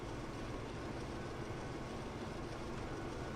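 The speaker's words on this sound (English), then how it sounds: "The DF11 diesel locomotive." A Chinese DF11 diesel locomotive in the video game Transport Fever rumbles steadily with a constant low mechanical drone and rolling noise, no distinct horn or clatter, sustained throughout.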